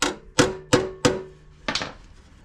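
A hammer strikes a Land Rover Discovery 3 outer sill panel four times in quick succession, sharp metallic blows with ringing decay, followed by a softer double knock, close and with no talking.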